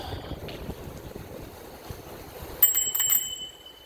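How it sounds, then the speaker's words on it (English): A bicycle bell rings out in a quick cluster of bright metallic dings while cycling around Île des Soeurs near Montreal, heard close over a background of wind and riding noise, with no talking. "Little bell action there."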